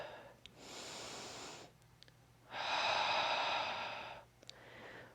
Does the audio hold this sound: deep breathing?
yes